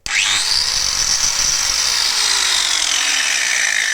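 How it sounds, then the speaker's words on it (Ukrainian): A cordless angle grinder running on battery power spins up sharply and keeps running at a loud, steady high-pitched whine, its tone drifting slightly as it works. "болгарка продовжує працювати, але вже від акумулятора"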